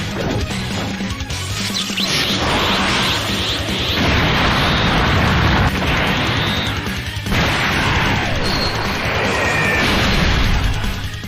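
Super attack animation from Dragon Ball Z Dokkan Battle, a mobile video game: a loud, continuous barrage of crashing blasts, booms and energy whooshes lasting several seconds, with sustained impacts and swells throughout and no talking.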